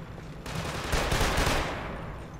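A dense burst of rapid gunfire in the video game Killzone 2 rumbles and crackles, swelling in the middle and trailing off, with no voices.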